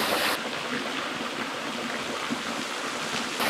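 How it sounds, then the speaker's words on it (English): A small waterfall splashes into an undercut beside a trail in West Virginia, a steady, fairly faint rushing of falling water that continues without pause and with no voices. "we heard this water, and we looked off the side of the trail and we found this lovely little waterfall in this undercut"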